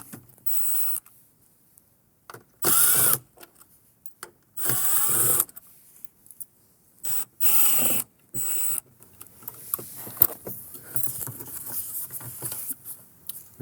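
Screws come out of the dash pod trim of a 1997–2006 Jeep Wrangler TJ, heard as close, intermittent bursts of whirring driver noise separated by silences, with scattered clicks and handling sounds toward the end.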